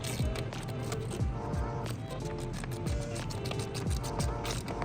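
A hand ratchet clicks in steady repeated bursts while tightening an 11mm nut during installation of a carbon fiber intake on a BMW F10 M5, close and fairly loud.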